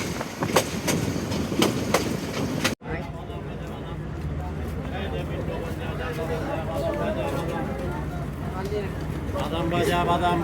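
Steady rumble and rhythmic clatter inside a moving local passenger train (Mohua local) travelling from Shyamganj toward Mohanganj in Bangladesh, with a brief sharp cut near the start, continuous carriage noise and people talking throughout.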